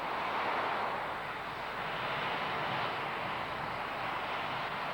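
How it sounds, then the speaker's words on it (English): Airliner jet engines roar broadly as they go to reverse thrust after landing, a steady, moderately loud rushing noise with no distinct peaks throughout. "if you hear a loud noise at this point, it's probably the engines going to reverse thrust"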